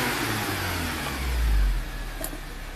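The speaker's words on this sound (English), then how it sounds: "Press the throttle wide open and hold it until the diagnostic tool instructs you to release it." Acura RDX engine held at wide open throttle during a diagnostic test, a loud, close, sustained rev with a swell of low rumble midway and no speech.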